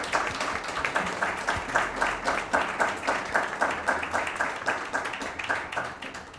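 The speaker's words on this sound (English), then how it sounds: "So if you could give our guests a round of applause, I'd really appreciate that." An audience at a Black founders in tech event gives steady, moderate applause for the guests, with dense rhythmic clapping through the whole stretch that eases slightly at the end.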